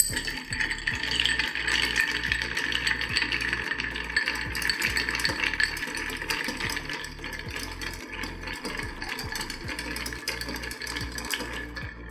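Ice clatters steadily against the walls of a cocktail mixing glass as it is stirred for a dry martini, a continuous close rattling with a fast, even rhythm lasting several seconds.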